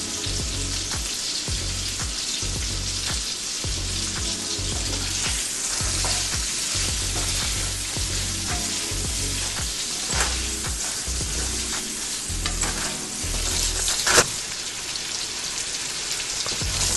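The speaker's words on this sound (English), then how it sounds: "I'll brown the sausage well before adding it to the beans." Sausage browns in a pan for red beans and rice, a dense, rain-like crackling sizzle that runs steadily throughout with a few small knocks.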